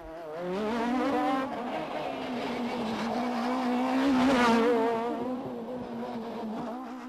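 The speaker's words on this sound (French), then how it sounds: "la Peugeot des frères Panizzi domine outrageusement tous ses adversaires" A Peugeot 306 Maxi rally car races a stage in the Cévennes regional park, its engine a sustained high buzzing drone that swells to a peak near the end before easing slightly, with no voices.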